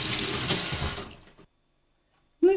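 Running tap water rinses a Bosch vacuum cleaner filter, a loud, close gush and splatter that stops abruptly, followed by about a second of silence before the water bursts on again.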